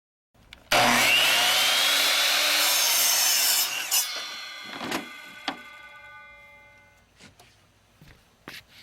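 A saw cuts through wood to trim excess lumber while building a skateboard halfpipe, a loud steady rasping run of about three seconds followed by a few scattered knocks and thuds of boards being handled; no talking.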